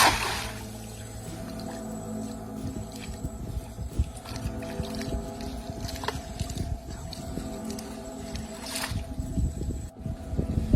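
Steady wind rushing across an open fishing boat on a Sundarbans river, with a low engine drone and water noise underneath, constant throughout with a brief dip near the end.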